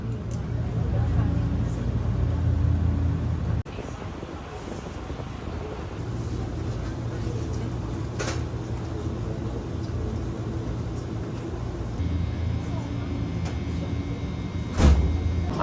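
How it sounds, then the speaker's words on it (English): Inside a cat-themed railway car on a working train in Japan, a steady low rumble and rolling hum carries on throughout, with a couple of brief clunks and rattles, and a voice talking over it at times. "Now keep in mind this is an actual working train."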